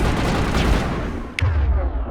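Gunfire in Mass Effect (ME1, Legendary Edition) comes as a loud, dense rattling burst, then a brief lull before one sharp crack rings out.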